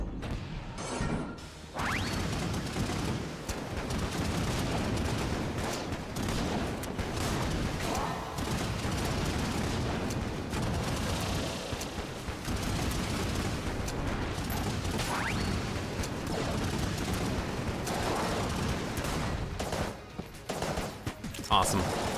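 Yari Launcher firing in Enter the Gungeon, a dense continuous rattling barrage of rapid mechanical shots that runs loud and unbroken for most of the stretch, with brief gaps near the start and end.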